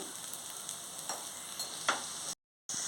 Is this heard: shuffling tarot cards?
no